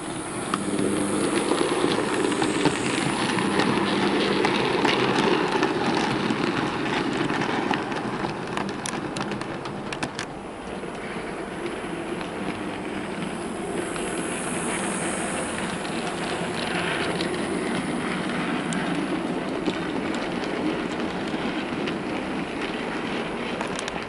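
A Dapol LSWR B4 model locomotive in lined green Southampton Docks livery hauling a short train, giving a continuous close rattling whir with a dip in level partway through, steady and without voices.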